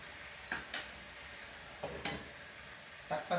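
Young beef steak frying in a pan until golden brown, with a soft steady sizzle broken by a few sharp clanks and scrapes of a utensil against the pan.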